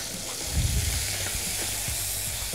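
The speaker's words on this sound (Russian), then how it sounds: "сейчас лучок обжарится" Onions frying in a hot pan with meat for plov with potatoes, a steady sizzling hiss with a brief low rumble near the start and light crackles, no talking.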